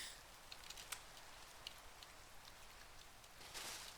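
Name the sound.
rain falling in Minecraft modpack Craftoria, from a video game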